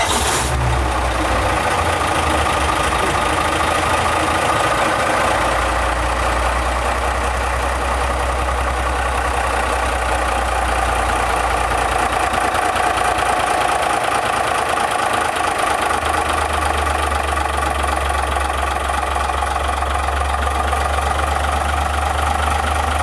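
A Gardner 6LXB marine diesel engine idles aboard a boat, a loud, steady low rumble with a rapid even beat that continues unbroken for over twenty seconds.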